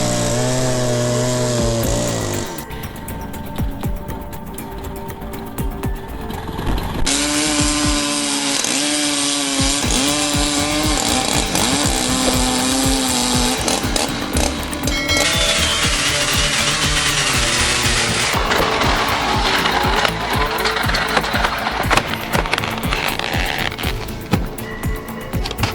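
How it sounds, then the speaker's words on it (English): An automatic firewood cutter saws through logs with a loud, continuous power-saw whine that changes pitch as the blade bites into the wood, amid steady mechanical clatter. "The automatic firewood cutter is a modern industrial device, designed to cut firewood into small pieces quickly and efficiently."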